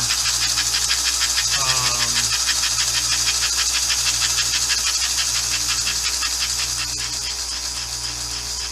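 A model locomotive motor, a Mainline #326 Hudson, runs steadily with a rhythmic pulsing from slightly binding valve gear. The mechanical whir is close and continuous, with faint background noise.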